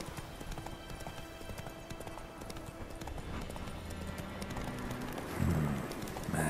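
Hooves of Geralt's horse Roach clip-clopping in The Witcher 3: Wild Hunt, a soft, steady rhythmic trot heard at moderate distance under game ambience, with a brief louder bump near the end.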